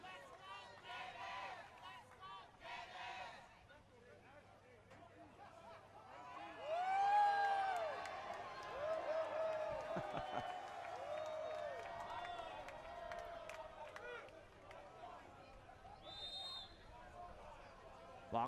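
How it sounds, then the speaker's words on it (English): A crowd of spectators at a men's water polo conference championship match in California cheers and calls out, swelling midway and then settling into a steady murmur, heard under a commentator's voice. "We've got some great crowd interaction happening here."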